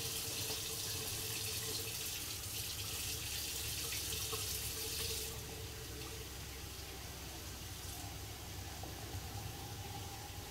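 Hot water runs steadily from a kitchen tap into a 28-ounce container, a continuous rushing hiss that shifts slightly in tone partway through as the container fills.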